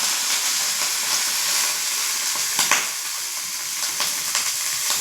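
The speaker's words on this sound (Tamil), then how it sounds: "இந்த கடாயில் எண்ணெய் ஊற்றி வந்து கடுகு போட்டு தாளிச்சுக்கிறேன்." Mustard seeds temper in hot oil in a kadai, making a dense, continuous frying hiss with scattered crackles and pops close by and no voices over it.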